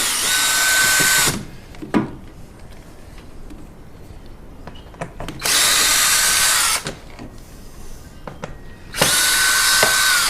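A power drill whirs in three loud bursts of a few seconds each, removing screws from a 2016-2018 Volkswagen Jetta 1.4L during an oil change, with quieter clicks and handling noises in between.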